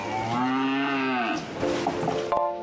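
Cows mooing in long, drawn-out calls on a cattle farm in Japan during hot weather, one sustained low moo followed by a rougher, overlapping call, loud and close with no talking.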